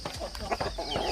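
Chickens cluck in short, close bursts while being fed whole corn on a farm, a voice talking among the clucks.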